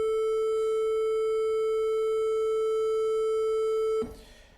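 A synthesizer holds a steady 440 Hz tone with added harmonics, a bright buzzy sustained note that rings unchanged for about four seconds before cutting to a soft noisy hiss.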